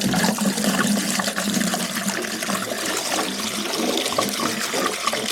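Baking soda solution is rinsed out of the fuel tank of a 1995 Suzuki Savage 650 motorcycle, water sloshing and pouring continuously in a steady gurgling stream, close and fairly loud.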